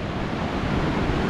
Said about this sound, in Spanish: Ahí se ve un poco del oleaje del canal.